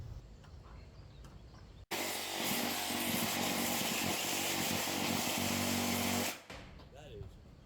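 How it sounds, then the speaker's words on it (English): A Sawzall reciprocating saw cuts sheet metal in a do-it-yourself workshop, giving a loud, harsh, buzzing roar for about four and a half seconds that starts and stops abruptly. "we found the Sawzall made the best cuts on the sheet metal"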